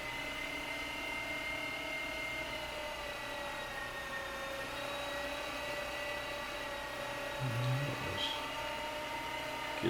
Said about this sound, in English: Let that auger grab it, and as you can see, it starts to grind it.